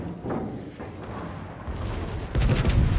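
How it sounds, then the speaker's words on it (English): Petropavlovsk naval guns firing in World of Warships, deep rumbling booms that build to a heavy, loud salvo near the end. "Those Petro guns hit hard."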